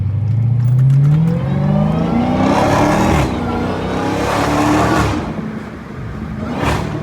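A Dodge Hellcat's engine revs hard downtown in Birmingham, rising in pitch through a loud acceleration, then easing and surging again in repeated pulls with brief shifts, heard from inside the car.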